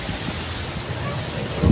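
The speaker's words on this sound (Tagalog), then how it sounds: "Lakas ng hangin no." Strong wind rushes steadily across an open flooded area, a continuous close, loud roar that swells slightly near the end.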